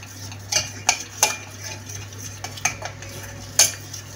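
A spoon stirs butter in a pot to start a béchamel for a potato and eggplant gratin, giving a few soft metallic scrapes and clinks at irregular intervals over a faint steady kitchen hum, close and quiet.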